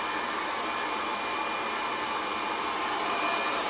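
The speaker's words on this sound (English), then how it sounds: "I hold a blow dryer on the roots" A blow dryer roars steadily on the roots of short pixie-cut hair, loud and close, a constant airy whoosh with no breaks and no voices.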